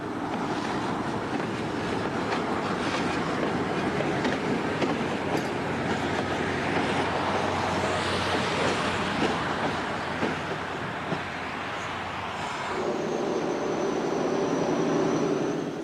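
SNCF BB 66000 diesel locomotives working in multiple manoeuvre trains in a yard, a steady heavy engine rumble with rolling wheel and rail noise, continuous and fairly loud, easing slightly before a faint high whine near the end.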